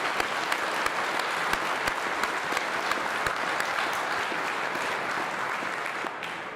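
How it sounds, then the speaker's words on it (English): Sustained crowd applause at an Iowa political rally, dense steady clapping from a large audience with no speech over it, holding loud throughout before easing slightly at the end. "a big round of applause to all the volunteers that made this possible"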